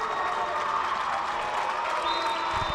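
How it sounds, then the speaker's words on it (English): Crowd noise from fans of the Beverly team at a boys' basketball game against Everett at the TD Garden, a broad, steady roar of cheering that fills the arena throughout. "Beverly crowd cheering for the Panthers"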